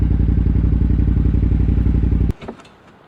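KTM 990 Adventure motorcycle engine at high throttle on a sand and mud trail, loud, close and rapidly pulsing, then cutting off abruptly into a few light thumps and clatter.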